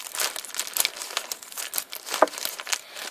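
A plastic package crinkles and rustles as it is cut open, giving close, continuous crackling with small irregular bursts throughout and no talking.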